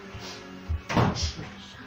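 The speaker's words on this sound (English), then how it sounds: "Shut the door!" A door is shut indoors with a single solid thud near the middle, preceded by a softer knock and followed by a faint rattle, close and brief against a quiet room.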